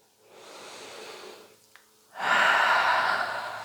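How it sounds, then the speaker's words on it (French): Two breaths during a prenatal yoga session: a soft inhale, then after a short pause a louder, longer breath pushed out through the mouth, close and alone with no talk. "Je peux expirer par la bouche."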